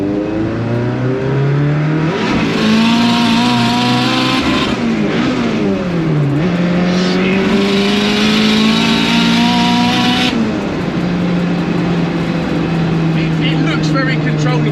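A 500bhp Mk2 Ford Escort Cosworth revs hard on the road, its engine note climbing and dropping through gear changes, loud and close from inside the car, with voices talking over it.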